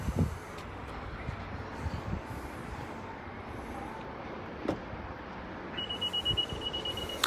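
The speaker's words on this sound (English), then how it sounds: "There goes that beeping again." A 2017 Honda CR-V Touring power liftgate gives a faint, brief electronic programming beep near the end over quiet background noise, with a couple of soft knocks earlier.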